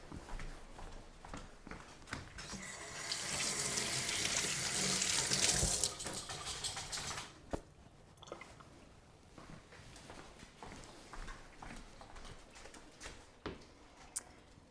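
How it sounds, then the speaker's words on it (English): Tap water runs into a kitchen sink as hands are rinsed, a steady rushing stream for a few seconds followed by quieter splashes, drips and handling noises nearby. "let me rinse my hands real quick"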